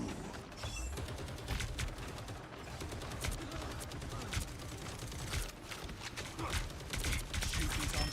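The Punisher's gun in Marvel Rivals firing in rapid sustained bursts, dense crackling gunfire layered over busy game effects and clatter, steady and continuous across the whole stretch.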